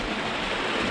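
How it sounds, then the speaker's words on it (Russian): Water rushes down small cascades from mountain slopes into an emerald lake, a brief, steady wash of broadband noise with no voices. "все течет по вот этим водопадикам"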